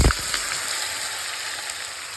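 Marinated okra hits hot mustard oil in a kadai with a soft initial thump, then settles into a steady, close, even sizzle with no talking.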